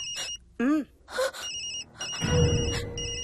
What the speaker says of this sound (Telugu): నా సెల్ నుంచి ఫోన్ వస్తుందంటే